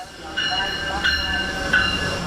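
Steady rumble of the Zephyr passenger train rolling along the rails from California to Chicago, with a continuous mechanical hum and faint periodic clatter, heard from inside a carriage.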